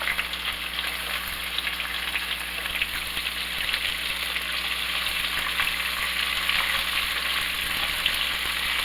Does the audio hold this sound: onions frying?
yes